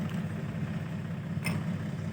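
A farm tractor engine idles nearby in a rural setting, a steady low rumble that holds even throughout with a brief higher clank midway.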